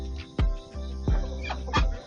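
A hen clucks on a farm with other hens, the calls coming in a few distinct, loud, close bursts spaced about half a second apart, with no talking.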